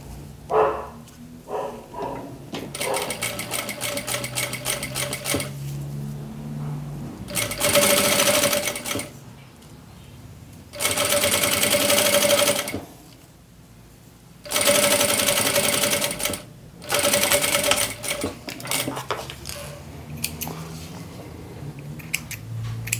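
A sewing machine stitches a children's round waist bag in several long runs of fast, steady whirring, separated by quiet pauses for handling the fabric, with light rustling and clicks in between.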